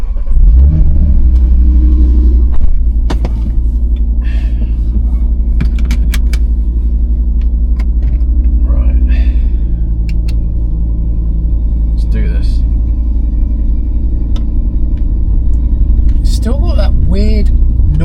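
A converted three-door Audi RS3 with a decat exhaust on a road test: a loud, constant low engine drone and rumble from inside the car throughout, with brief rattles and a voice faintly audible at times.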